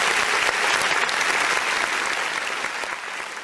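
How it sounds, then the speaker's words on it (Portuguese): An audience applauds a podcast guest, Dr. Charles R. Clement, in a dense, steady wash of clapping that fades a little toward the end, heard alone without talk. "E eu gostaria de pedir aí uma salva de palmas"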